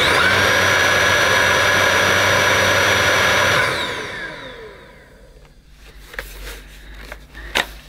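A Roidmi R10 cordless vacuum cleaner fitted with a mattress tool runs with a loud, steady high-pitched whine, then spins down and falls quiet, leaving a few faint clicks and knocks.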